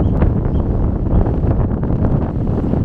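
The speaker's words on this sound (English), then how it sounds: "The wind's definitely picking up now" Strong wind gusts across a beach on a Jurassic coast fossil hunt, a continuous loud roar buffeting the microphone with steady rumble and no pauses.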